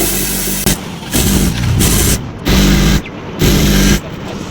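A sewing machine stitching the sleeve of a maxi dress runs in loud, close bursts of rapid whirring, stopping and starting about four times with brief pauses between.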